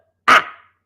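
A single sharp dog bark rings out close and loud indoors, with a short fading tail and no talking around it.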